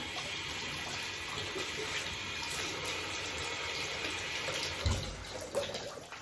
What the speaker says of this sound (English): first make sure you wet your towel